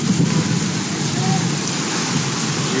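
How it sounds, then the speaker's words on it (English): Heavy rain pours steadily in Freetown during mudslide flooding, a constant dense hiss of water on surfaces with a low rumbling undertone and no break. "Rain still heavy. As you see now."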